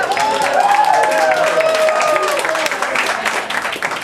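Applause from a comedy club audience fills the room, loud and sustained clapping with some crowd whoops riding over it, easing slightly toward the end.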